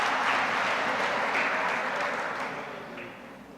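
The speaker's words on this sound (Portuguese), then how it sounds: "Vamos aplaudir a Ele que nos deu essa autoridade, irmãos." Congregation applauding in a church during a family worship service, a steady wash of clapping from many hands that fades slightly toward the end, with no talking.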